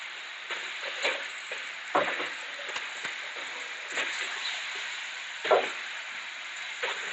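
Ivy gourd and chopped tomatoes simmer in a pan, giving a soft, even sizzle with scattered light pops and crackles, steady and fairly quiet throughout.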